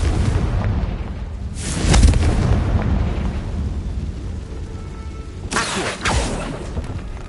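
Incendio fire spell cast in Hogwarts Legacy inside a tomb, with two loud whooshing fiery bursts, the first near two seconds and the second around five and a half seconds, over a low rumbling game ambience.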